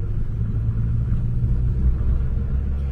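A car engine rumbles with a deep, steady low growl, close by and continuous, with slight swells in pitch as it revs.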